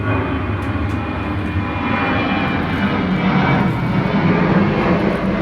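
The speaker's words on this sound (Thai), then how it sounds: "เครื่องบินมันบินผ่านเฮือนข่อยพี่น้อง" An airplane flies over a house in rural Thailand, its steady engine drone loud and continuous throughout, a broad rumbling roar with no talking.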